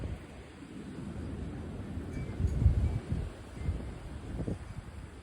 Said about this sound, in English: Yeah, it's so windy out.